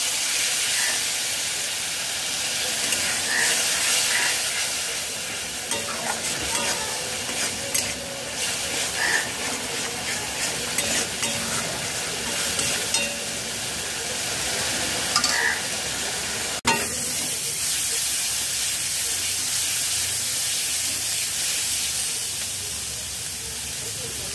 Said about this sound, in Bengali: 4 টেবিল চামচ জল দিয়ে ভালো করে মশলা কষিয়ে নেব